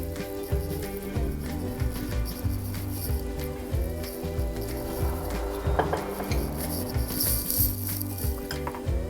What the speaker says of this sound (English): we are done with the mixing of nuts and dried berries, right, with Maida